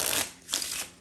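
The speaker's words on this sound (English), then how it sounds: "So you can shuffle the deck." A regular deck of playing cards riffles through a Hindu shuffle in two quick papery strokes, close and crisp, with no voices.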